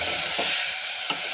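Masala roasting in oil in a pan, a steady sizzling hiss that runs throughout with two brief stirring scrapes and no talking.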